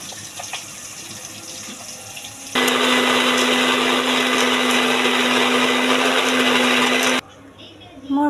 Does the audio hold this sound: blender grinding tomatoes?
yes